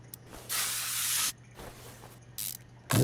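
Aerosol spray hisses on a car part during disassembly in repeated bursts: a long blast, shorter squirts, then another starting, close and loud with quiet gaps between.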